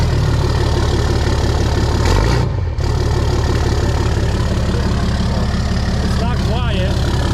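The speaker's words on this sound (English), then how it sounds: "I know, just give it a little bit of revs." A car engine fitted with a 4-inch Spelab exhaust idles loudly and gets a few light revs, a deep continuous rumble up close with people talking over it.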